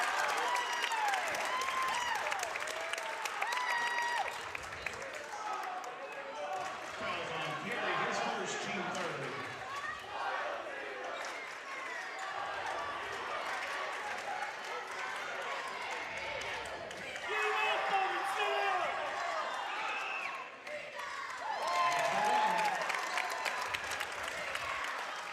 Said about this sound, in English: Hear this crowd coming alive as they want any call at all.